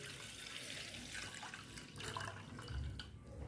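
Water poured into a glass while making lemonade at home, a steady close splashing trickle running throughout without talk.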